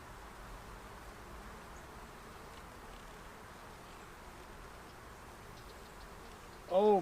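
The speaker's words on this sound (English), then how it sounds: "we've got a great supply of bees in there" Honeybees from a productive swarm packed into a honey hive, a low steady buzzing drone that runs faintly throughout, with a brief louder tone at the very end.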